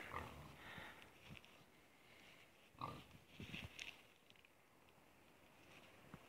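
Pigs grunt and snort in a few short bursts, fairly close, with quiet shuffling between the calls.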